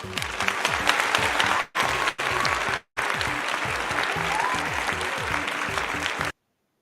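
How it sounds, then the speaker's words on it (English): A conference audience at a parents' event gives a dense, sustained round of applause welcoming a speaker to the stage, loud and continuous with two brief gaps before it cuts off. "with a round of applause, let's welcome Mr. Kwame Obeng to the stage"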